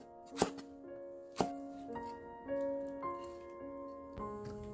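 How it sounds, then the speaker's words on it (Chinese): A knife chops a handful of garlic chives, giving a few sharp, spaced knocks on the board up close. Tuneful background music plays throughout. "一把韭菜切碎，"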